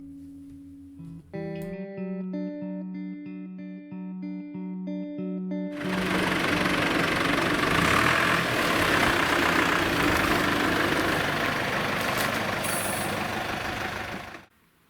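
An OKA 4x4 truck's diesel engine drones loudly and steadily from inside the cab, rising to a rough full roar partway through, preceded by a short tonal melody.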